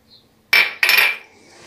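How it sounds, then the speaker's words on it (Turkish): Metal utensil scraping and clinking against a pot while stirring red pepper flakes, mint, black pepper and salt into potato kavurma, two short bursts close by with no talk. "Ve bunları bu şekilde karıştıracağım."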